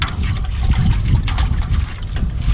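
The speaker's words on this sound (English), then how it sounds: "Half a cup of vinegar, and we're just going to stir that up" Vinegar brine for pickles being stirred, a continuous close liquid swishing and trickling with a low rumbling undertone, fairly loud and steady throughout.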